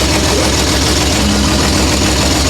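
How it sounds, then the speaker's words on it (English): A cold track motorcycle engine idles steadily up close, a continuous loud rumbling drone with an even low throb and no talking. "So obviously it's idling, you guys."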